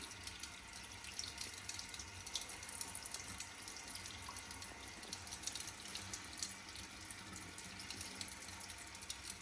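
Water from an instant water-heater faucet, unboxed and under test, runs in a steady splashing stream into a sink, even and close throughout, with no talk.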